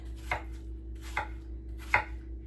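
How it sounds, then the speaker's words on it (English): A knife cuts through an apple on a cutting board in three separate crisp chops, each a short thud with a light crunch, close and clear in a quiet kitchen. "Make sure you slice it so that you get those"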